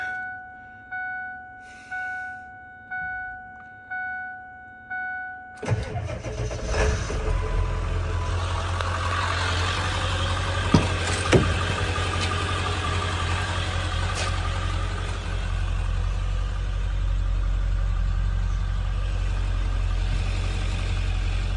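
A 2001 Ford F350 work truck with a 7.3 diesel engine cranks over in several rhythmic strokes, catches and settles into a loud, steady, low rumbling idle close by, with no talk over it.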